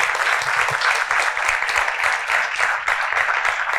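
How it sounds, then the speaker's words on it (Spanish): Steady audience applause at a tech conference talk, a dense continuous wash of many hands clapping at close range for the whole stretch, with no voices over it. "Dale un aplauso para Jorge."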